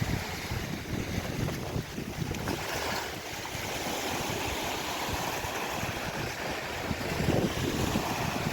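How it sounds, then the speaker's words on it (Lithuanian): Rough open sea heard from a boat or shore during a motorcycle trip, a steady roar of wind and breaking waves with heavy wind buffeting on the microphone throughout. "Šiaip pasiūto jūra."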